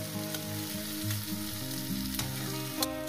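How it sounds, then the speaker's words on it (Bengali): Onions fry in a pan with a close, continuous sizzle, with a few sharp stirring clicks near the end, over soft background music and no talking. "পেঁয়াজটাকে আমি সুন্দর করে 4 থেকে 5 মিনিট এটাকে ভেজে নিয়েছি"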